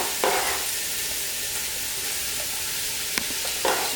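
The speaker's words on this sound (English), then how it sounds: "I'm just going to put it in the pan and get that cooking and browning up" Cubed beef browning in a hot pan gives a steady, soft sizzle throughout, with a few brief louder crackles and scraping stirs near the start and end.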